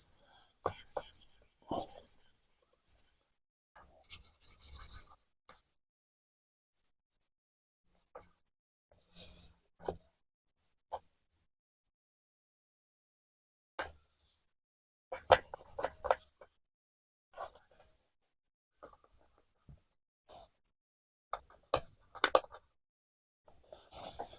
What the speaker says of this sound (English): Make sure also when you're doing this that you're keeping the stone as flat as possible on the blade.